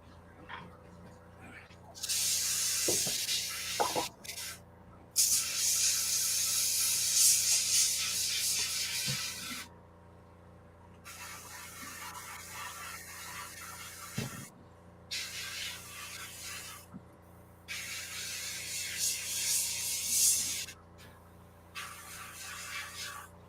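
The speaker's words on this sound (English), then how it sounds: "let me clean this airbrush out" Airbrush spraying paint in bursts of loud, close hissing, several separate sprays of a few seconds each with short pauses between, over faint background noise.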